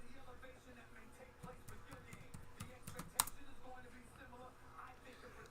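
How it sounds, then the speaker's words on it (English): Fingers tap out a run of quick, uneven clicks on a computer keyboard at close range with one sharper keystroke, faint and partly under a person speaking. "like I'm typing the names for the AFC here"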